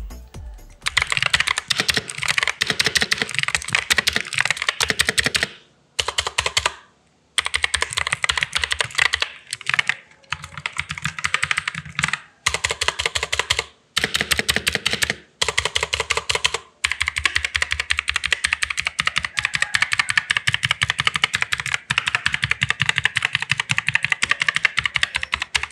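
Fast, dense clicking comes from an NYK Nemesis mechanical keyboard, typed on continuously with several brief pauses between bursts, close and fairly loud, with no voices.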